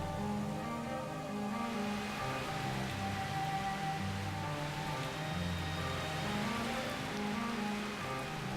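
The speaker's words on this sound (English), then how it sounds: "The rain comes as the sun's energy focuses more strongly on Amazonia." Heavy rain falls in the Amazon, a dense, steady hiss and patter that stays loud and even throughout.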